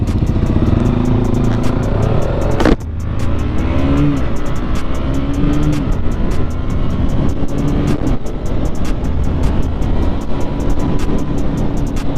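2021 KTM Duke 125 motorcycle being ridden on a mountain road, its engine droning loud and close with rising and falling revs, gear changes and steady wind rush.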